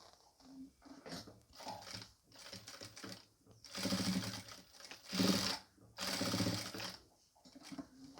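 Domestic sewing machine stitching a bow onto a nighty, in short bursts of rapid mechanical chatter separated by pauses, close and fairly quiet.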